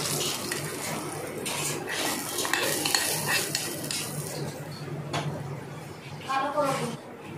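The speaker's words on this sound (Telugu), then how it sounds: "పచ్చడి గిన్నెలోకి వేసుకుని మొత్తం కలిపేసుకున్నామండి" A spoon stirring velakkaya curd chutney mixed with hot tempering in a bowl: wet scraping and soft clinks against the dish with a faint sizzle, while someone talks over it.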